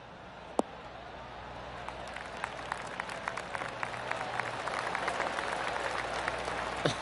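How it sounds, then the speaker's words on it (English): Golf gallery applause after an approach shot in the PGA Tour 2K23 video game, a soft, steady patter of many hands that builds gently and keeps going, with a few louder claps standing out near the start. "That deserves a golf clap."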